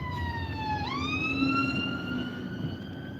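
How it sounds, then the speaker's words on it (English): A fire engine siren wails loud and close, its pitch sliding down then sweeping back up into a sustained high tone over steady road rumble, with no speech. "With a fire engine."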